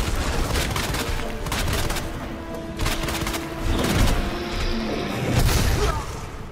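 Gunfire aimed at Birkin's eye in the Resident Evil 2 Remake, several loud sharp shots mixed with crashing impacts and heavy game effects, dense and close throughout.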